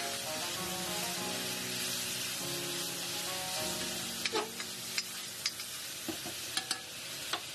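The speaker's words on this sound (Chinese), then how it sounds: "简单的翻炒两下" Cauliflower is stir-fried with green and red chili peppers in a wok for dry-pot cauliflower: a steady sizzle runs under a soft musical tone, then sharp spatula scrapes and clicks land at irregular intervals in the second half.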